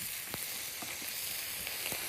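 Food simmers in a pan on the stove, giving a soft, steady sizzle with a few faint pops and bubbles, quiet and close.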